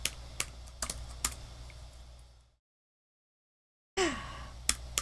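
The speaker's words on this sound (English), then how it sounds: "Typing too quick." Quick bursts of typing on a computer keyboard during music-software note entry, a few sharp clicks then a long silent gap before more keystrokes resume.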